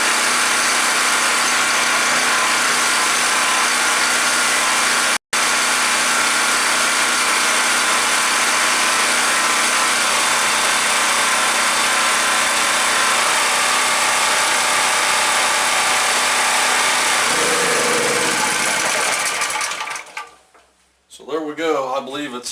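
A WEN 4050 portable generator fitted with a new carburetor runs steadily under electrical load, a loud continuous engine drone that holds for about twenty seconds before cutting out abruptly near the end.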